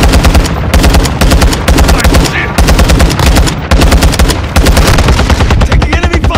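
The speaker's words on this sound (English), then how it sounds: "Taking enemy fire!" Dense, loud gunfire from Call of Duty Invasion on the Taraq map, sustained rapid automatic bursts with brief gaps, close and continuous throughout.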